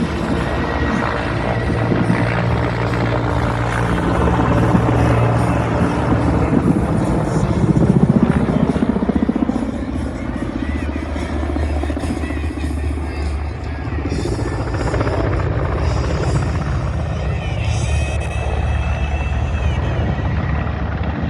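Mil Mi-17 "Hip" helicopter flying at a historical airshow in Mladá Boleslav, a loud sustained rotor and turbine roar that swells and shifts in pitch as it manoeuvres overhead, with faint crowd noise beneath.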